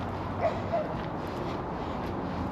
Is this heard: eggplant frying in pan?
no